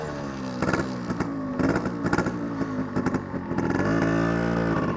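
Yamaha RX100 two-stroke motorcycle with an E3 engine in mint condition idles close by, its exhaust burbling and clattering with short throttle blips before settling into a louder, sustained rev.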